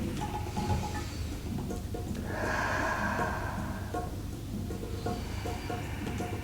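Deep, slow yoga breathing fills the space, a long drawn inhale swelling then easing into a long exhale and another breath beginning, close and steady over a constant low background rumble, no talk.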